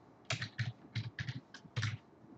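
Keys clack on a computer keyboard in a short burst of about seven close, crisp keystrokes with small gaps between them, no voice.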